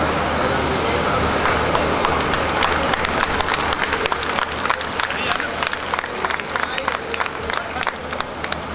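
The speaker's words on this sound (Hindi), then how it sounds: "जोरदार तालियों से आप स्वागत करें" An audience at a Hindi comic poetry gathering in Behror claps loudly and steadily, a dense crowd applause with sharp individual claps near the mic and a faint murmur underneath.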